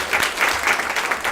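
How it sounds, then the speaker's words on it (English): Brief steady applause from guests and parents at a graduation ceremony, dense clapping throughout without pause, fairly close and loud. "we also want to give a round of applause to all the parents, all our guests here"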